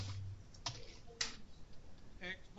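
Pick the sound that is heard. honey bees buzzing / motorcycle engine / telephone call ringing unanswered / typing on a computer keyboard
typing on a computer keyboard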